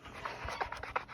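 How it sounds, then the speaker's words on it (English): A dog pants and its tags or claws click softly nearby as it moves around a quiet room; faint, brief, no talking. "don't mind that noise. That is my dog coming in here"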